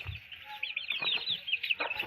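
A hen clucks in short, close bursts at a home where it has just laid a small egg, with a bright chirpy rhythm and brief gaps between calls.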